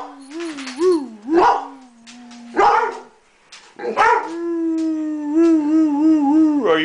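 A dog, eager for dinner, gives several close, loud yelping barks with whiny rising and falling tones, then holds a long, wavering howl-like whine at the end.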